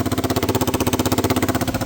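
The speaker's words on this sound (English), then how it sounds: "Oh my god, it's got a bad exhaust leak." Suzuki DR-Z400 motorcycle engine idling with a bad exhaust leak, giving a steady, loud, close-up pulsing chuff that repeats evenly throughout with no talk.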